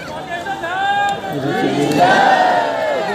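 A large, dense crowd gathers at a temple durbar, a steady wash of many voices murmuring and calling out together, with occasional louder shouts rising above the near-constant din.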